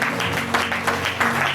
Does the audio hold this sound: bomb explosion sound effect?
no